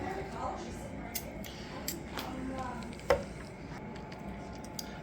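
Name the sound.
knife slicing smoked tri tip beef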